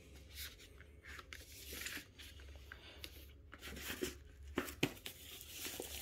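Black paper wrapping torn off a boxed Xbox Series X console: several close, crisp rips and crinkling bursts, with louder tears near the end over a low steady hum.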